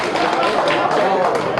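Audience at a mushaira poetry recital clapping in a dense, continuous burst of applause, close and loud throughout the short stretch, with no pause in the hands.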